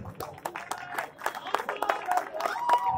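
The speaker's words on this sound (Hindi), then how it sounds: "चलिए एक जोरदार तालियां आज की इस बॉडी बिल्डर के लिए" Applause for a bodybuilder at a bodybuilding competition in Prayagraj, with dense clapping and crowd noise running throughout and mixed with voices and some cheering.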